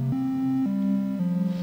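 A Behringer Model D analog synthesizer, sequenced from a Eurorack setup, steps through a short arpeggio of three or four sustained, buzzy tones, clear and alone with no talking.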